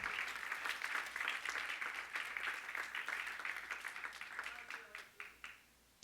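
A church congregation claps for the Lord during a Spanish-language sermon, a fairly quiet, dense patter of many hands that thins into a few scattered claps and fades out at the end.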